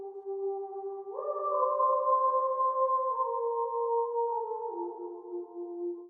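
Synth choir preset in FL Studio sings a sustained, airy 'ooh' chord that shifts pitch once and then steps down again, smooth and continuous, alone without talk.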